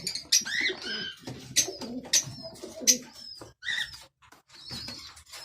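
A Rampuri male pigeon with a Teddy and Ferozpuri cross hen, giving repeated close, throaty coos in short bursts with brief pauses between them, alone with no talk.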